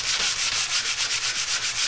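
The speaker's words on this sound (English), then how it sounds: "Sanding by hand." Drywall patch being sanded by hand, a steady, close scratchy rubbing in quick regular back-and-forth strokes with no talking.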